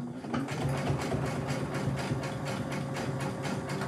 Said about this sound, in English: I'm going to put it back under the machine and I'm going to do a zigzag stitch